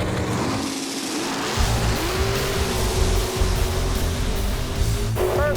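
Mopar drag race cars launch off the start line at an all-out drag racing final: a loud, sustained engine roar with a rising rev and a faint tire squeal near the end.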